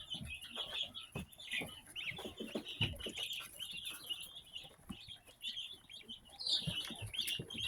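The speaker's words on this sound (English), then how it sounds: "Ducklings and chickens in their brooder." Newly hatched ducklings and chickens in a brooder, a faint, busy chorus of high peeping and chirping with soft clucks and light scratching and tapping underneath, continuing throughout with no talking.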